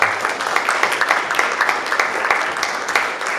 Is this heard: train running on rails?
no